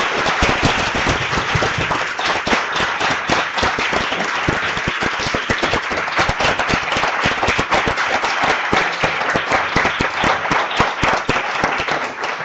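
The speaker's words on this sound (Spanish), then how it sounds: "Un aplauso." An audience at a panel discussion breaks into sustained, dense applause, many hands clapping loudly and evenly throughout with no break.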